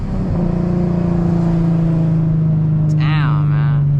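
A 6-speed Infiniti G35 with the muffler and resonator deleted drones loud and steady while driving, its exhaust tone holding close and constant, with a brief voice near the end.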